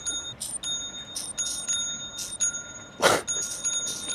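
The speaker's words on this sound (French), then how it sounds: "Je sens qu'elle va me hanter cette notif, Seb" Order notification chime from an online business, a short bright ding repeating over and over in quick irregular bursts, faint against room noise, with one louder sharp burst partway through.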